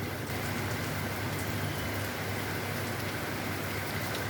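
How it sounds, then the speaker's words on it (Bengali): Steady rain falls over open fields and a flooded wetland during a rainy day out catching climbing perch, a continuous broadband hiss close by and alone, with no voices. "হাই রে বৃষ্টি রে।"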